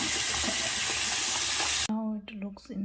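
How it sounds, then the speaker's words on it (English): Tap water runs steadily over a grooming kit attachment, a loud continuous rush that cuts off partway, after which a voice talks over faint handling noises. "you can clean it with water"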